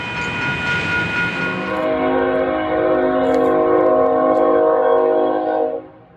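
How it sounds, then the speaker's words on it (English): A long freight train led by three engines rumbles past up close, its horn blaring in sustained chords over the clattering wheels before the sound cuts away at the end. "It's a train."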